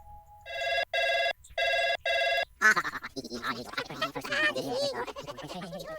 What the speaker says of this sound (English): you start doing something and the phone rings